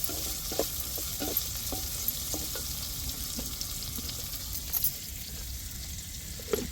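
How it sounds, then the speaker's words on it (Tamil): Onions sautéing in oil in a pan for chicken curry, a steady close sizzle running throughout with occasional soft clicks and scrapes of a stirring spoon. "இப்போ வெங்காயம் நல்லா வதங்கட்டும்"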